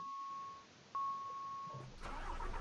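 A Scania truck engine in Euro Truck Simulator 2 cranks and catches after two steady electronic beeps, the start close and fairly quiet.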